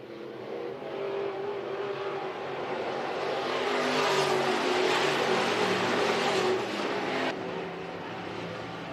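Race cars at Phillips County Raceway roar around the dirt track toward the checkered flag, a steady loud engine drone swelling and holding across the stretch before easing slightly near the end.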